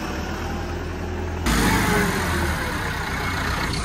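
A tractor engine idles close by at a village tractor pulling contest in Pakistan, a low continuous rumble that grows slightly louder partway through, with no voices.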